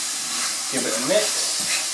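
Salt-and-pepper-seasoned meat being stirred in a hot pan, a steady sizzle with a short burst of scraping and stirring midway, fairly close and moderately loud.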